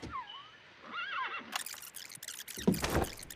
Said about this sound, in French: il y a un cheval, là